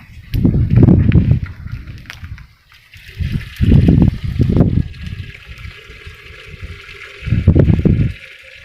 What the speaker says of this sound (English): And then fetch some water.